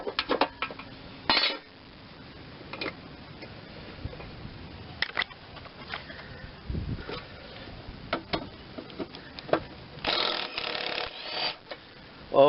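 A socket ratchet works on the blades of a Craftsman 42-inch mower deck, with scattered close metallic clicks, clanks and ratcheting bursts across the stretch.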